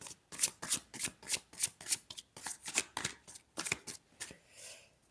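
A tarot deck is shuffled close by, giving a quiet, steady series of soft papery flutters and snaps repeated at an even rhythm before trailing off.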